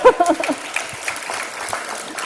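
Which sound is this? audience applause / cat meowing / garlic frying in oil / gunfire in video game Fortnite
audience applause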